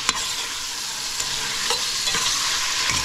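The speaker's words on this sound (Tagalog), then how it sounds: "Halu-haluin na natin." Stirring macaroni soup in a pot after ground pepper and salt go in: continuous close scraping and swirling with a light sizzle underneath, no voices.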